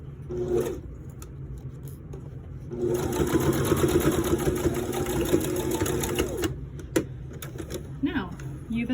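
A sewing machine stitches through several layers of a fabric face mask, running in a dense rapid whir for a few seconds between quieter handling clicks, with a voice talking over it.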